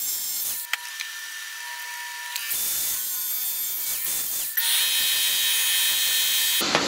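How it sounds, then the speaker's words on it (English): Threaded rods are cut to length for a dual master cylinder booster delete, a loud, continuous, close-up grinding rasp that runs for several seconds with a few brief breaks and shifts in pitch. "we need to shorten these threaded rods"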